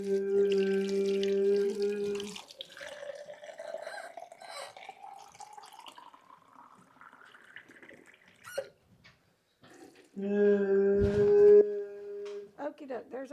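Warm water runs from a tap into a measuring cup for Amish cinnamon roll dough, its pitch climbing steadily as the cup fills. Stretches of a steady tonal hum come before and after.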